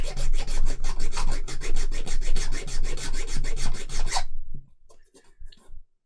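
Rapid rasping strokes grind back overspill on a plastic part of a Colonial Viper Mk II model kit, a steady, close, scratchy burst for about four seconds, then a few quieter scrapes.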